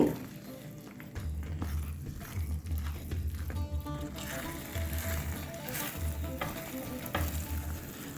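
Semolina halwa sizzles and fries in ghee in a pan, a continuous crackling hiss with rhythmic scraping stirs, steady and close throughout.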